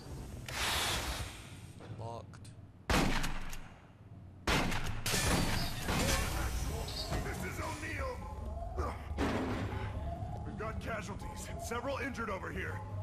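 Explosions in the video game Aliens: Colonial Marines: sharp, loud blasts burst out twice amid gunfire-like crackle, with in-game voices talking throughout.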